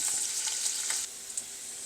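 Chopped garlic and green chillies sizzle in hot coconut oil, a steady close frying hiss with faint crackles and a brief stir near the end.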